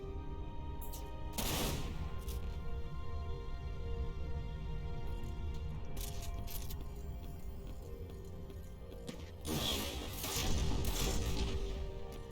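Gunfire in the game Dirge of Cerberus: bursts of sharp shots at a moderate level over a steady background hum, with clusters near the start, in the middle and toward the end.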